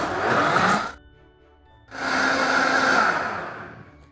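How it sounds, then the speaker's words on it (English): A Vitamix blender whirs loudly through a batch of vegan eggnog, a steady roaring burst that cuts out for about a second, then starts again and runs on at full strength. "we're going to use the Vitamix to blend it up"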